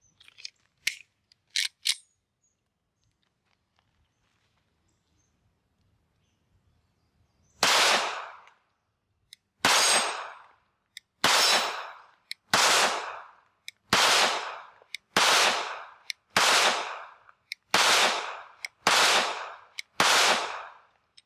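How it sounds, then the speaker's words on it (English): A Mossberg MC2SC pistol fires eleven evenly spaced sharp shots outdoors on a range, each crack loud and close, after a few light clicks and a quiet pause. "we're going to shoot the 11 round mag first and see how this goes"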